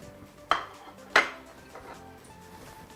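A spoon stirs chicken biryani stew with onions and peppers in a cooking pot, giving two sharp metallic clinks against the pot and then softer scraping, with no talking.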